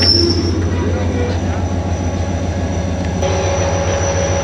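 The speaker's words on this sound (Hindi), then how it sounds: "ट्रेन का डिपार्चर कैप्चर करते हैं" A train departs Padidan Junction with a heavy low rumble, rolling wheel noise and a faint squeal, loud and continuous at close range, with people's voices mixed in.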